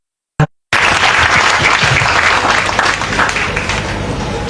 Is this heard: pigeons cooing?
no